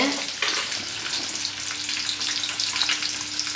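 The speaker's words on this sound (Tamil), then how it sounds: "குழம்பு நல்லா கொதிச்சிருச்சுங்க, மீனும் வெந்துருச்சு" Sardine fish curry bubbling in a clay pot, a steady close sizzling, crackling bubble noise running throughout with a faint low hum underneath and no voices.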